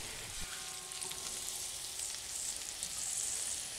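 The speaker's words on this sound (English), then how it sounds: "now it's just a matter of stir frying for a little longer to get everything good and hot" Beef and broccoli sizzle and fry in a cast iron pan, a steady crackling hiss with faint stirring clinks and no voices.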